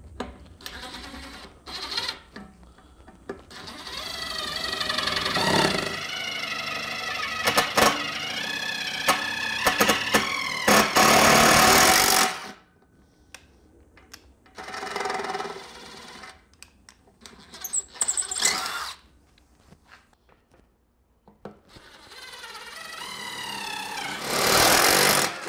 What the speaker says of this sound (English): 10 millimeter drill and tap.